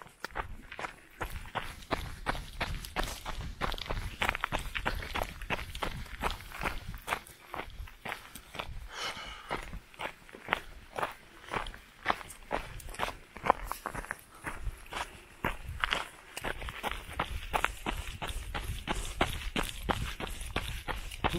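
Quick, steady running footsteps thud close by in a fast rhythm, with rustling clothing and occasional faint voices mixed in throughout.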